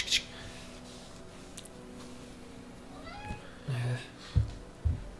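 A black cat meowing in a thicket, a few short, fairly faint meows near the end over a quiet, slightly noisy background.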